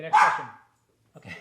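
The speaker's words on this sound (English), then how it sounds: "that's our dog" A pet dog lets out one loud, close bark, followed by a short silence and then a person speaking.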